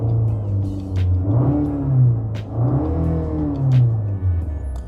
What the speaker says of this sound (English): Very good sounding engine.